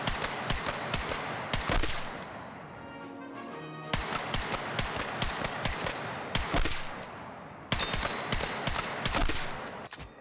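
A shooter video game gun fires in quick repeated volleys, loud and near, three long strings of sharp shots separated by a brief quieter gap.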